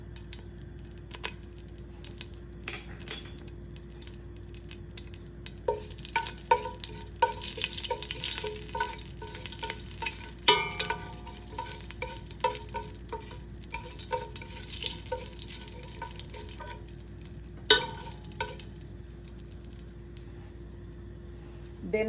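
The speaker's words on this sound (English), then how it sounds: "I'm going to put the urad dal." Urad dal fries in hot ghee for upma, a soft continuous sizzle broken by scraping stirs and occasional clinks of the spoon against the pan, close and fairly quiet.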